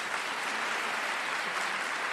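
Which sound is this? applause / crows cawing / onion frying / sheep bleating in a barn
applause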